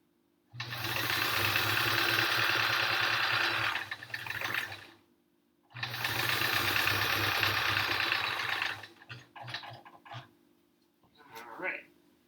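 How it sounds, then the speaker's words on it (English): A sewing machine stitches rows of a triangle-patterned quilt in two long, steady runs separated by a short pause, followed by a few brief bursts of stitching and handling noise. "Just keep sewing."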